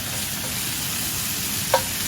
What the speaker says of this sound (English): we're kind of deglazing this pan with the bacon